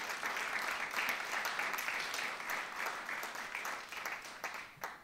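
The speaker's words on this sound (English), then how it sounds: "So let's applaud them for working." Audience at a literary keynote applauds to thank a group, a dense, even wash of clapping that holds steady and slowly tapers near the end, with no voices over it.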